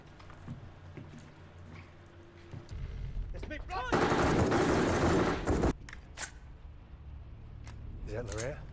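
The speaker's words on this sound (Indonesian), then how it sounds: "Tapi karena tembakan tadi, si William ini jadi kena tembak di perutnya" A long, dense burst of rapid gunfire fills the middle of the clip, loud and sustained, with quieter shots and background noise before and after.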